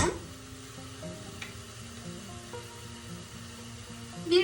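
Onions browning in a pan with pepper paste added give a soft, steady sizzle with faint stirring and a spoon clink at the end, close and quiet, without talk.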